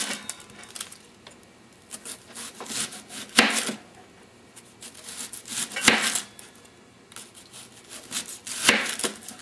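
A Yoshi Blade ceramic knife slices food into quarter-inch chunks on a cutting board, making three loud bursts of chopping clatter at a steady pace, with softer knocks and board contact in between and no talking.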